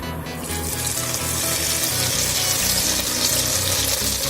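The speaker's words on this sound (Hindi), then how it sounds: "घी गर्म हो चुका है, थोड़ा सा डाल के चेक करते हैं।" Hot desi ghee being poured for making ghevar, a continuous liquid pouring and bubbling rush with rhythmic low pulsing, steady and fairly loud close up.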